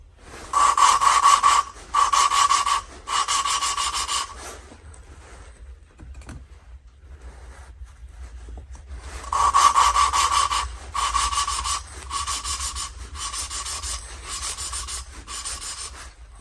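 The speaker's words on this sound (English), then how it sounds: "I bought a little valve lapping tool here" A valve lapping tool grinding a valve seat on a 1979 Honda XL500s motorcycle head: repeated gritty rasping bursts, each a second or so long with short pauses between, close and fairly loud, then a quieter stretch before the rasping resumes.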